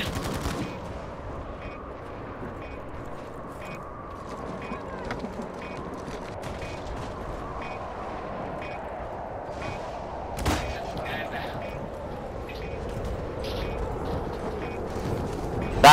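Gunfire in the video game Call of Duty during a whole-lobby Red Worm boss fight, heard as a dense, steady wash of shooting with one sharper burst near the middle, and faint voices underneath.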